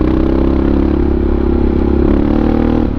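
A Honda XR650R supermoto motorcycle engine runs loud and close under a choppy throttle, a steady rough thumping drone with uneven surges and no voices.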